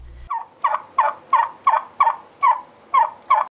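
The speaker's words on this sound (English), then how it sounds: "there will be beautiful live turkeys strolling around my front yard" Live turkeys in a front yard gobble in a quick series of about eight clear, close calls, evenly spaced and loud against a quiet background.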